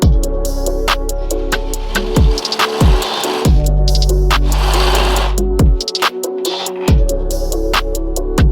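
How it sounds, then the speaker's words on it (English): Power drill boring out a bolt in a Mazda Miata bumper, a loud, close motor whine that starts and stops in repeated bursts, each run-up ending abruptly in short pauses. "Just drilled out this a bit with a bit bigger drill bit"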